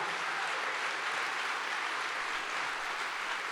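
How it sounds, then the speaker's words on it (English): Steady, dense applause from an audience at a public talk on Canadian civil liberties, continuous and even throughout with no voices. "that's premature applause"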